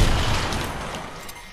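A grenade blast in Fortnite, a single loud boom right at the start with a broad rumbling decay that fades over about a second and a half.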